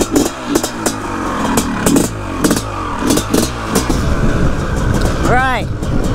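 A Honda CR500 two-stroke motocross bike rips around a track lap, its engine blaring loud and close with rhythmic surges of revving as the rider works the throttle, plus a rising whine near the end.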